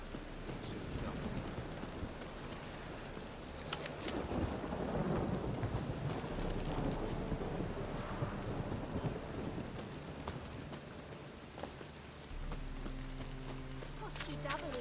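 Steady heavy rain with rolling thunder in The Witcher 3, a constant wash of downpour with low rumbles swelling and fading, voices speaking over it.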